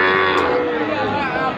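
A Sahiwal calf about three months old moos in a long, drawn-out call at a busy cattle market, close and loud against steady crowd noise.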